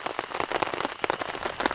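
Dense, heavy rainfall hammers down at a tentless solo campsite, a close and constant wash of drops with frequent louder splashes on nearby surfaces.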